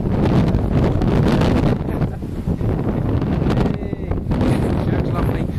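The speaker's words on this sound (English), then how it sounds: "It's getting a little bit windy." Wind gusting on a beach at Skerries on a November afternoon, a loud, constant rush buffeting the microphone, swelling and easing in waves.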